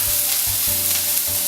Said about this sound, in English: And then to that, we're gonna add half a purple onion chopped